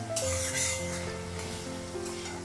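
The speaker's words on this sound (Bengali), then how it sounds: "তো পেঁয়াজটা একটু লাল করে ভেজে নিব" Onions frying in oil with green chillies, cardamom and cinnamon for a jackfruit curry in a home kitchen: a steady, close sizzle with a faint constant hum beneath it.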